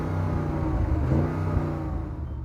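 Audi RSQ8 engine revving while parked, held against its soft limiter at around 4,000 RPM; a steady, loud, continuous engine drone that swells slightly mid-way and stays close, with no talking.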